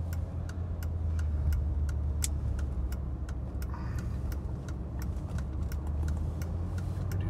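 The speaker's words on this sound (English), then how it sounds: "We do some merging onto the highway now." A 1987 Mercedes-Benz 300E merging onto a highway, with a steady low engine and road drone from inside the car and a regular ticking, likely a turn signal, clicking over it.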